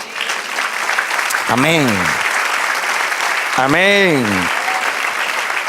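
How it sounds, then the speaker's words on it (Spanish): A church congregation applauds in a continuous, loud wash of clapping, while voices twice call out over it. "Den un aplauso al Señor."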